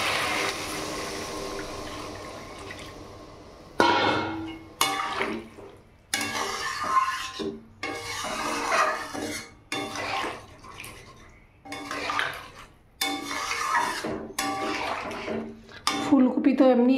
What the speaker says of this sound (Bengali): তো এখানে আমি এবার এই জল দিয়ে দেবো।